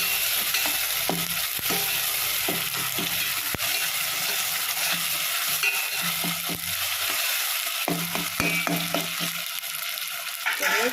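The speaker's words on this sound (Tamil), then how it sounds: "இஞ்சி பூண்டு பேஸ்ட்டு இதை நல்லா வதங்கிட்டோம்" Onions sizzling and frying in a pan with ginger garlic paste for Chennai-style vada curry, a steady close crackle broken by repeated scraping stirs of a spatula, with no talking.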